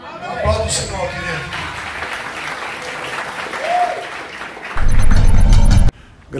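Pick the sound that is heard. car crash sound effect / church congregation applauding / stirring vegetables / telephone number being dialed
church congregation applauding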